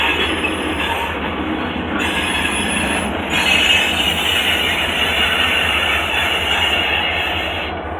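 A train rumbles along the FG.A railway, its steady rolling noise and faint wheel squeal holding fairly loud and constant throughout with no voices.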